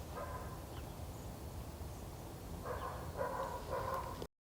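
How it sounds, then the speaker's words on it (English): A dog barks in the background, faint and distant, with a few short bursts of barking near the end over a steady low rumble of room noise. "dogs barking in the background, because that's what it wants to do every single time I speak"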